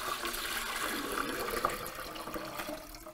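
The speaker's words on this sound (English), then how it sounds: "As you pour in your water," Water pours into a Vevor water distiller in a steady, close splashing stream that tapers off toward the end.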